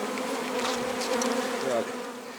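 Honeybees swarm and buzz steadily around a beehive, a dense continuous drone with many overlapping wingbeats close by, holding an even level throughout with no voices.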